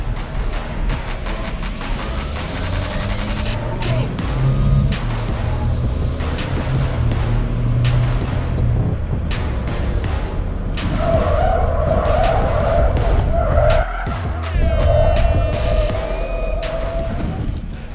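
A Ford Ranger Next Gen pickup brakes hard from 90 km/h on a test track, with loud continuous tire skidding and road roar lasting throughout, broken by sharp bursts and a rising squeal near the end.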